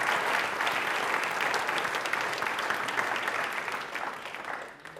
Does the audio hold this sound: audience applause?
yes